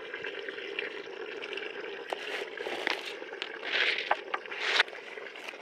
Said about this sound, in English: putting water in like that, guys, also puts plenty of oxygen in the water